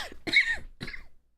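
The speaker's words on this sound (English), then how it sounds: "Sorry about the coughing in your ears." A person coughs twice in quick succession, close to the microphone: a harsh, throaty bark followed by a shorter second cough, then quiet.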